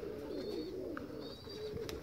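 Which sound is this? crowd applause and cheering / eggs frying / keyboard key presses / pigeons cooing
pigeons cooing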